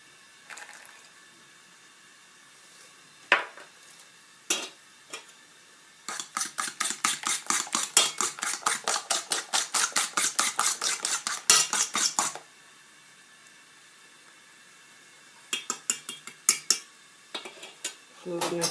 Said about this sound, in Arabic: خلطنا كامل هاد المقادير